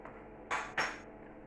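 Metal spoon clinking against a pot of leftover vegetable soup during tasting, two quick, quiet clinks a moment apart in an otherwise hushed kitchen.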